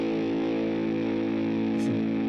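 A heavily distorted electric guitar tone runs through a ProCo RAT pedal at full gain, one dense sustained muddy chord ringing steadily and loud, with a brief brighter scrape near the end and no talking.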